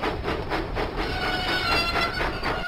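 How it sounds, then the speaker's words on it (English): Steam engine Thomas from a Thomas and Friends video game chugs along steadily, a rhythmic puffing and clacking of wheels on track heard alone at moderate volume. "Thomas pumped his pistons and puffed out of the docks."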